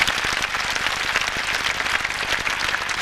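An audience at a comedy gathering applauds in a steady wash of clapping, moderately loud and sustained throughout with no voice over it.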